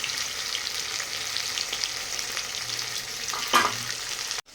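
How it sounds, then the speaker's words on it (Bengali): Fish sizzles steadily in hot oil as it is fried until reddish, a continuous close hiss with a brief louder crackle near the end, no voices. "মাছ একটু লাল লাল করে ভাজা না হলে তরকারিতে কিরকম সাদা সাদা হয়ে চেয়ে থাকে"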